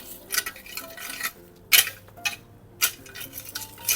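Fertilizer is worked into stony soil by hand, giving a handful of scraping, gritty crunches and rattles of small stones in uneven bursts, close and distinct with no talking.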